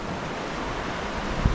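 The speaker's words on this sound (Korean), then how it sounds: "물소리가 장난 아니에요 여기" Steady broadband roar of rushing river water on the bank of the Seomjin River in Gokseong, continuous and fairly loud with wind-like hiss, plus a brief low thump near the end.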